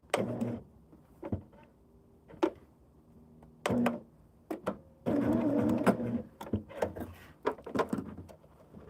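A sewing machine stitches quilt blocks in several short bursts, each a few seconds long with pauses between them, plus a longer steady run near the end. It sounds close and is heard alone.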